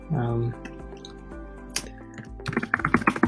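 Typing on a computer keyboard, a quick burst of close, light key clicks after a voice speaks briefly.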